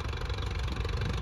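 A Swaraj 855 tractor engine idles close by with a steady low throbbing rumble, moderately loud and unbroken, with no talk.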